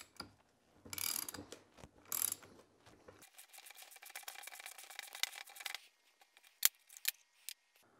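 Puller working a part off a Porsche transaxle, with metallic ratcheting clicks and cranking, then a quieter stretch of fine mechanical ticking and a few sharp clinks, close and fairly faint.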